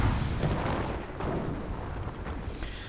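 Artillery fire in a multiplayer strategy video game: a dense, continuous barrage of low booms and rumbling blasts overlapping one another at a steady loudness, with no pauses.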